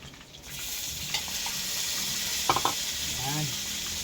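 Tomatoes sizzling in a hot pan while being stirred for pakbet, a steady close frying hiss with a few brief utensil clinks and scrapes, no talk.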